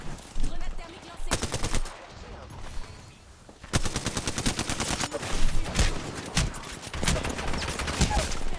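Automatic gunfire in a video game: rapid bursts of machine-gun shots, fairly loud, with a brief lull before more sustained firing and scattered further shots.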